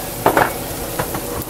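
Turmeric spice mix dumped into a pan of potatoes, cauliflower, shallots and tomato, giving a couple of quick soft clatters and a brief sizzle, then a faint scrape or stir near the one-second mark.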